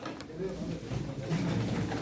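Pigeons at a pigeon auction coo in short low bursts close by, faint and partly masked by a steady murmur of room noise and voices.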